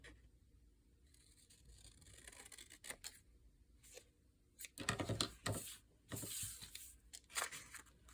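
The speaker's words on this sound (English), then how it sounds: "trim this off." Scissors trim paper for a journal project, giving a series of close, soft snips and cutting strokes in an otherwise quiet room.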